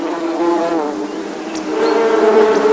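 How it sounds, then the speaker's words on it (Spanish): Close, steady droning buzz of European honeybees at Carcassonne, swelling slightly louder toward the end, with no voices. "En Carcasona todavía se crían abejas europeas"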